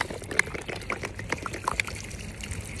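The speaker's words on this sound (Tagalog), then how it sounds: "Nalas ko lang yung tubig para hindi siya mabigat dalhin." Water glugs and trickles as it is poured out of a bottle collected for recycling, with uneven splashy bursts over a steady background noise.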